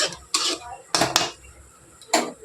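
A metal ladle churns boiled lentils in a pot, producing four separate bursts of clanking and scraping against the metal with quiet pauses between them, close by and with no speech.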